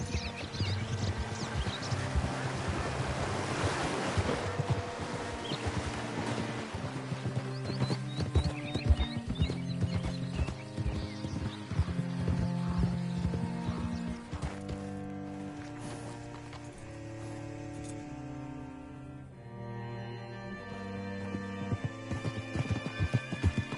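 Horse hooves clop at a walk in the Western video game Red Dead Redemption 2, a soft rhythmic beat under a continuous orchestral music score.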